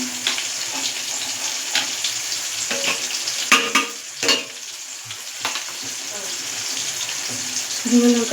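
Dried red chilies frying in oil in a wok, a steady bright sizzle with a few louder clatters of stirring and a brief pause midway, heard close up.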